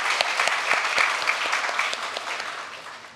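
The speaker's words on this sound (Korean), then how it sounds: "우리 하나님께 감사의 박수 드리도록 하겠습니다." A church congregation claps in thanks during a Korean-language Sunday worship service, a steady, full wash of applause that holds for about three seconds and fades slightly toward the end, with no voices over it.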